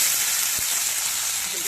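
Onions fry in hot oil until golden brown, giving a steady, close sizzle with broadband crackle and hiss that runs unbroken throughout.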